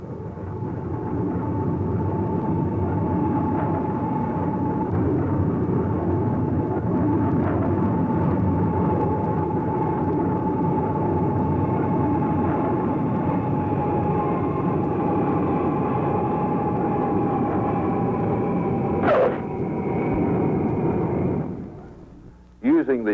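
Simulated aircraft landing in a flight simulator, a steady dense engine roar with a droning hum held for about twenty seconds, then cut off abruptly near the end.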